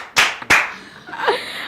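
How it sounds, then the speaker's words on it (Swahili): Two loud, sharp hand claps close together, each ringing out briefly in a reverberant room, followed by a low murmur of background noise. "andũ kũhũra makofi nĩ tũhũre makofi"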